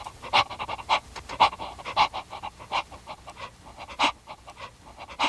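A dog pants rapidly and rhythmically up close, with steady quick breaths at an even pace and no talking.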